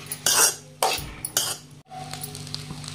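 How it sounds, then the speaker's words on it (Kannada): Street-style egg rice stirred in a pan on a low flame: several quick metallic scraping strokes of a spoon against the pan, followed by quieter, softer mixing with no voices. "ಹಾಕೊಂಡಿದ್ರೆ ಈ ತರ ಪೂರ್ತಿ ಮಿಕ್ಸ್ ಮಾಡ್ಕೊಂತ ಲೋ ಫ್ಲೇಮ್ ಒಳಗೆ 1 ನಿಮಿಷಗಳ ಕಾಲ ಸ್ವಲ್ಪ ಬಿಸಿ ಮಾಡ್ಕೊಳ್ಳೋಣ್ರಿ"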